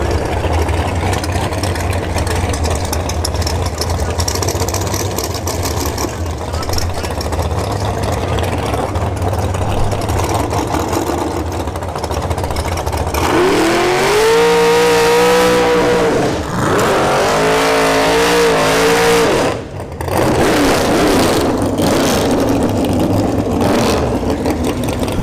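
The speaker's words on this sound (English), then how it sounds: "I hear some engines fired up." Drag racing engines from a dragster and a Chevy II Nova at an NHRA bracket event at Bradenton Motorsports Park: a loud steady engine rumble, then a roaring surge of rising revs with a brief dip before the roar resumes.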